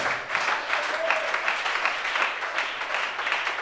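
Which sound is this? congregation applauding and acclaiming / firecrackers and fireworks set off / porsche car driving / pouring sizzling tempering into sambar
congregation applauding and acclaiming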